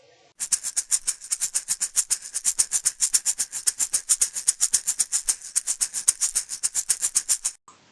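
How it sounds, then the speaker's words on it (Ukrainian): Maracas shaken in a brisk, steady rhythm, a dense run of crisp rattling bursts, close and clear, with no voices. "Маракас."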